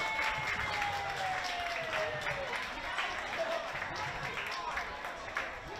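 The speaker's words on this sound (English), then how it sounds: "Big round of applause for Lily." An audience at a kids' athletics competition course applauds a young competitor as she finishes, a steady wash of clapping and crowd noise heard at moderate distance throughout.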